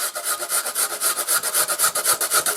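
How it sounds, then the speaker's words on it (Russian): Potatoes grated by hand on a fine grater into a bowl, a steady rhythmic rasping of quick back-and-forth strokes, close and loud, with no talk. "Картошку натираем на мелкой терке."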